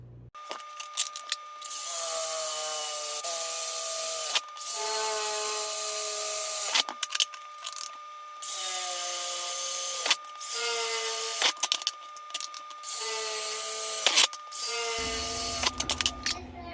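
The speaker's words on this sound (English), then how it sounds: "we're going to go ahead and get the brackets drilled out" A power drill whines in long sustained bursts, pitch shifting as it bites into metal brackets for fridge pull handles, with brief clanks and pauses between holes.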